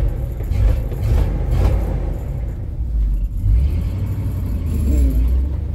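Cold start of a 1977 Ford F600 grain truck engine, a loud, steady low rumble with rough idle pulses that continues without a break, close by.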